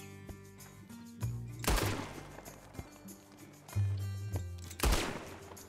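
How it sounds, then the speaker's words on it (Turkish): Gunfire in Red Dead Redemption 2, shots aimed at a man's leg: a few sharp, loud blasts spaced over several seconds, each with a short ringing tail over a low background hum. "Ayağına sıkıyorum ki acı çeksin böyle."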